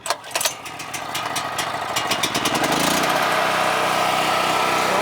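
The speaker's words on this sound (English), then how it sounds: "I like to just turn off the fuel and let it run out of fuel." A new portable generator engine catches after a few brief rattling pulls, then settles into a loud, steady, close running drone that holds to the end.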